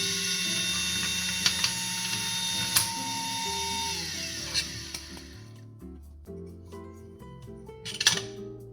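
A Starseeker coffee grinder's adjustment is turned, with fine mechanical ratcheting clicks up close. Several sharper clinks stand out, and a louder burst comes near the end.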